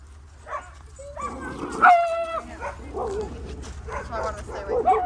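A shepherd dog barks a few times outdoors, the barks mixed with nearby people talking over steady low background hum.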